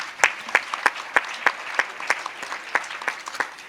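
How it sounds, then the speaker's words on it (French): A small audience at a book discussion claps in a slow, sparse rhythm, each clap distinct and crisp, roughly three per second, close and moderately loud. "On peut l'applaudir aussi."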